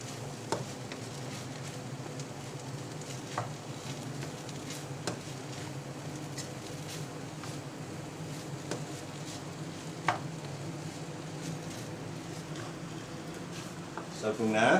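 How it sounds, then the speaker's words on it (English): Thai seafood fried rice is stirred in a pan over low heat, with a soft continuous sizzle and scattered scraping clicks of the utensil while a person talks over it. "We're gonna stir it well. Keep in mind we're doing this at low fire at the moment."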